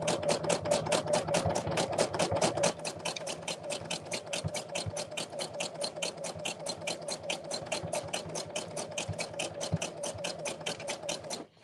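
A sewing machine runs a wide zigzag stitch across coiled fabric rope, a fast steady mechanical chatter with a constant motor hum underneath, close and even throughout, no voices.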